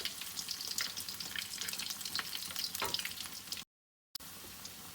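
Bread pakora fries in hot oil until golden with a soft, constant sizzle and crackle, faint and close, broken by a short gap of silence near the end.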